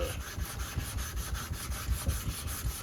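A straight razor is honed on a Nano 8K waterstone, giving a steady, rhythmic back-and-forth scraping rub with even strokes at close range and no talk.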